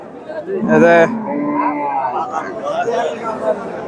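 A cow lets out one loud, drawn-out moo at a busy Bangladeshi cattle market where pregnant cows are traded, with a crowd chattering all around throughout.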